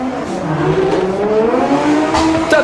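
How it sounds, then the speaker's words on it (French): Drift cars launching together at the start of a battle run at the French Drift Championship, engines revving hard and rising in pitch, loud and close, with a brief tire squeal near the end. "Top départ pour Antoine Amar, Mathias Locatelli"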